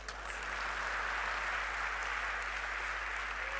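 Steady applause from an audience, dense and continuous at even loudness throughout.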